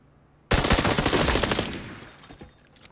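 A Glock 25 pistol firing in PUBG, a sudden loud burst of rapid shots starting abruptly, then dying away into a ringing, echoing tail.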